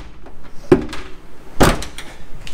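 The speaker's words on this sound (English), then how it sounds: "If you wanna open this door, just push it down" A Honda Del Sol door latch released by pushing down on a rod inside the car, giving two sharp mechanical clunks about a second apart, close by and alone with no talking.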